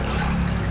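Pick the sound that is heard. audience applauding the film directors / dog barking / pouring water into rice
pouring water into rice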